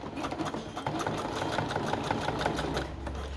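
A sewing machine runs steadily while stitching elastic onto a pair of long children's pants, a fast, close mechanical whirr with rapid needle ticks and no talking.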